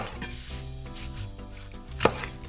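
A knife slicing chikuwa fish paste on a cutting board, several soft cuts ending in one sharp knock against the board, quiet and close, with no talking.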